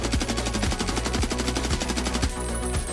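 A Steyr AUG rifle fires full auto in the video game Escape from Tarkov: one loud, rapid, steady burst of shots runs for about two and a half seconds, then the fire stops and an echoing tail remains.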